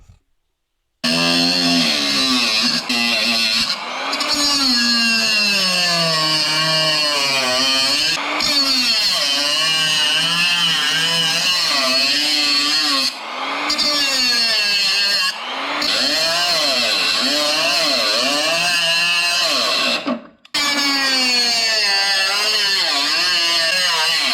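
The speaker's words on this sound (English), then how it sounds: "Now we're just going to trim it off with the 3-inch cutoff tool." A 3-inch cutoff tool trims the rocker panel metal on a Mercury Sable station wagon with a loud, close, sustained high whine. The pitch wavers as it bites into the steel, and it stops briefly several times.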